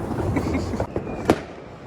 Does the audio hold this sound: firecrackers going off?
yes